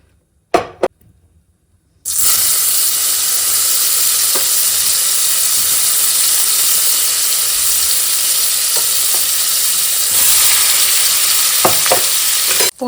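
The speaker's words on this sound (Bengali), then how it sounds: "পনিরগুলোকে হালকা হালকা ভেজে নিয়েছি" Paneer pieces frying in hot white oil in a kadai, beginning with a couple of clinks and then breaking into a loud, continuous sizzle with occasional stirring scrapes.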